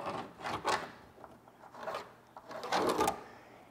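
A saw cuts a cambered line through a 1.5 inch thick walnut board for a wooden boat's cover boards, giving close, uneven bursts of rasping across the stretch with short pauses between strokes.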